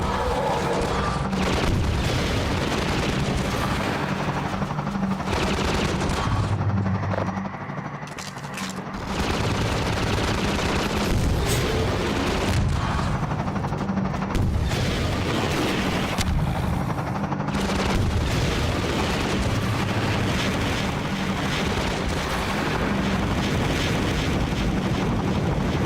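Rocket explosions and gunfire in a Half-Life 2 fight against multiple helicopter gunships, a dense, loud, continuous barrage of blasts, rotor roar and shooting that fills the whole stretch with only brief dips.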